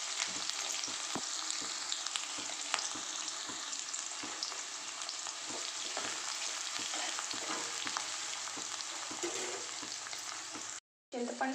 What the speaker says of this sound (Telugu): ఇవి కొంచెం దూరగా వేగిన తర్వాత టమాటాలు వేసుకున్నాం